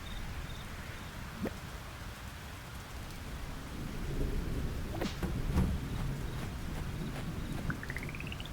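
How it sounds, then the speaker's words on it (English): Steady rain falls with a low rumble of thunder swelling midway, a continuous outdoor storm wash that carries a few faint chimes on top. "The sound of the thunder woke me this morning as well."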